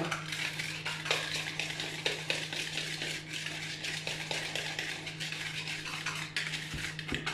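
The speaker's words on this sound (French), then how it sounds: "Donc on va pouvoir mélanger à la main d'abord" Eggs and powder being mixed by hand in a bowl, producing a steady quiet patter of soft squelches and taps with a low hum underneath, close and continuous without talk.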